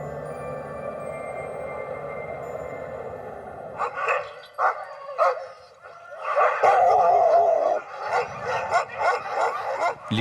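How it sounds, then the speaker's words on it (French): Siberian husky sled dogs waiting for their meal, barking and howling in a loud overlapping chorus of yelps and long howls that starts after a few seconds of quieter background and continues in bursts. "Les chiens de traîneau attendent leur repas."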